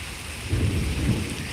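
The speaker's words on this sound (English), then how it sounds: "And now the rain picks up." A close thunderstorm with heavy rain: a steady wash of rain and low, rolling thunder that swells partway through and stays loud, with no voices.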